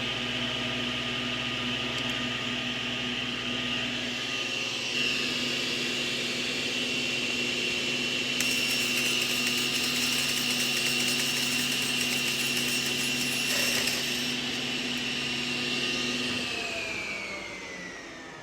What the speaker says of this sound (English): you can cut conductive materials like aluminum on the SawStop